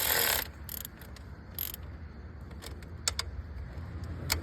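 A ratchet tightens the valve cover bolts on a Kia Sorento, giving scattered short metallic clicks and ticks against a low background hum.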